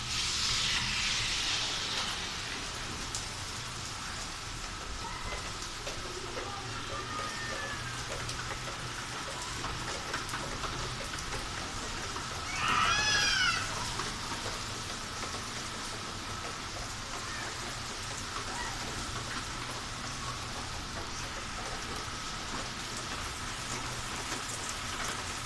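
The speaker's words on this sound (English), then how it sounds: "it's raining too much" Heavy rain pours steadily as a dense, continuous hiss of drops on surfaces, with a brief faint sound partway through and no talking.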